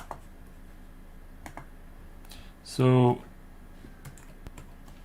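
Keyboard keys clicking during typing on a Samsung DeX desktop setup, a short dense burst of clicks around the middle, under brief talk.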